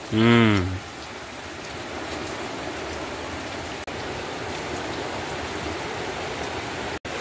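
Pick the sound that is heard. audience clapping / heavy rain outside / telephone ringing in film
heavy rain outside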